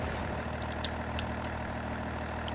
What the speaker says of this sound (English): This truck actually sounds really good.